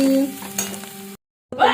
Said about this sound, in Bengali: ভাজা হয়ে গেছে পেঁয়াজ সমেত কি সুন্দর ভাজা হয়ে গেছে